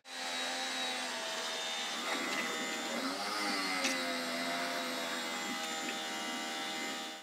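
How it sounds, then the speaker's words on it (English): A pressure washer blasts into a blocked outdoor drain, a loud steady motorized whine and hiss held for several seconds with slight pitch wavering, heard alone. "I'm gonna move on to pressure washing and see if I can shift what's left"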